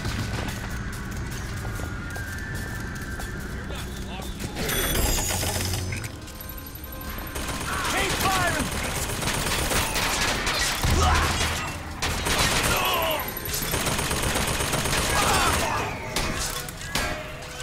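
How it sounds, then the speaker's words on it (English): Rapid mechanical turret fire and impacts in the shooter game Bioshock Infinite, with dense chattering bursts and clanks over game ambience and occasional talk. "I want to destroy this turret."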